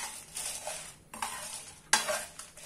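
Peppercorns and dried chillies dry-roasting in a pan for sambar masala, stirred in short bursts of close, gritty scraping and rattling separated by brief pauses, with a faint sizzle underneath.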